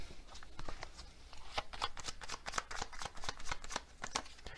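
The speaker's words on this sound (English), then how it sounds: "Let's get another one of these Hermit Tarot cards." Tarot cards being shuffled up close, a rapid run of crisp riffling flicks and slaps in uneven bursts, with no talk over them.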